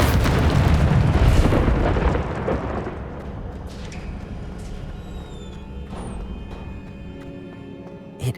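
The Incendio fire spell cast in Hogwarts Legacy, a loud roaring burst of flame that starts strong and slowly fades into a lingering crackle, with a small pop near the end.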